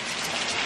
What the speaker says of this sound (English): Whoa, it's raining so much.